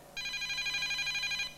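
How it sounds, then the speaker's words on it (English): A telephone bell rings once in a single sustained burst of about a second and a half. The ring is bright, clear and close, with no talking around it. "It's the phone again."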